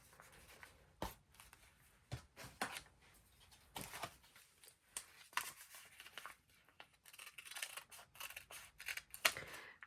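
Scissors snip away excess paper from a junk journal page in a quiet room, a series of short, crisp cuts close by in an uneven rhythm with no talking.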